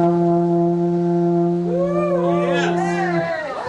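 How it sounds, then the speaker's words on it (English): A wooden alphorn blown by an amateur on a live morning news set, sounding long steady low tones that bend into wavering, sliding higher notes before fading near the end. "you brought an Alpine horn for me to try my hand at"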